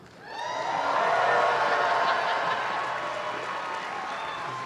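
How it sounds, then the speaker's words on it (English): Master's engineering graduates rise at a Georgia Tech fall commencement, cheering and applauding; the roar swells quickly, peaks loud, then holds as a broad sustained crowd wash with voices mixed in. "please rise and cheer loudly"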